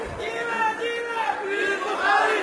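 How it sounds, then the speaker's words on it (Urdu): A crowd at a religious gathering shouts slogans together, a dense mass of raised voices swelling and surging steadily, with the loudest burst near the end. "چھوڑیے نعرے نہ لگائیے"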